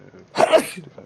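A single sharp sneeze bursts out in the middle of a brief stretch of spoken words.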